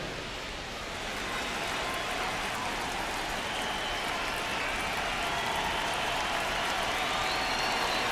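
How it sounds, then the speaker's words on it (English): Steady rain pours down on a baseball stadium in the MLB The Show 26 video game, a dense continuous hiss that swells slightly and holds throughout, with no commentary over it. "This rain is not letting up."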